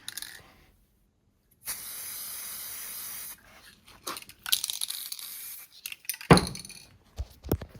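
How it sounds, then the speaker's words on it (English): Finish sprayed from a can onto a guitar body test piece in a short hissing burst, then further stuttering bursts and faint clicks as the nozzle is pressed again, close and alone without talk. "I'm going to hold my breath, quickly spray it"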